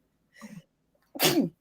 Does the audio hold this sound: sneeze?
yes